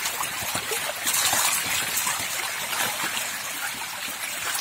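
Water pours steadily into a backyard fish pond, a continuous close rushing and splashing trickle with no talk over it.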